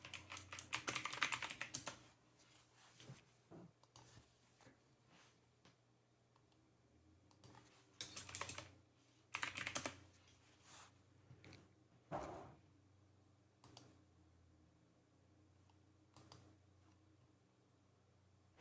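Someone types on a computer keyboard in a quiet room, with bursts of rapid, close key clicks separated by pauses and single taps.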